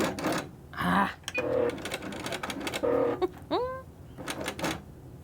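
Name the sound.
sewing machine stitching a quarter-inch seam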